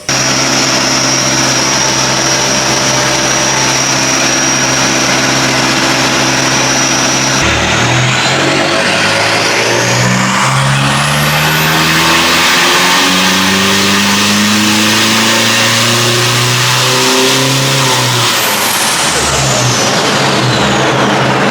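A Toyota Hilux with a 1KD diesel engine, built as a race car, idles steadily on a dyno run before revving hard and climbing through the gears in a long, loud, rising roar that holds, then drops away.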